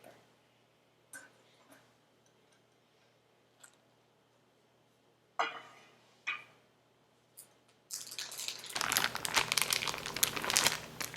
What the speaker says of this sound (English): we can peel off the parchment paper